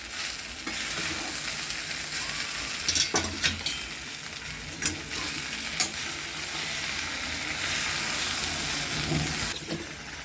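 Poha is mixed and fried in a pan, giving a loud, continuous sizzle throughout with scattered scraping and clinking strokes as it is stirred.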